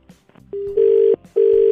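A telephone rings in two steady electronic bursts with a short gap between them, loud and close, after a few soft clicks.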